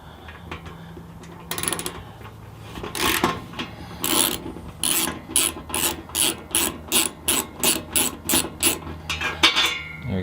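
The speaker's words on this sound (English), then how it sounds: "the first thing I need to do is take out these two screws" Screws are backed out of a wood boiler panel with a ratcheting hand tool, giving irregular scraping bursts that settle into a quick regular series of close clicking pulls.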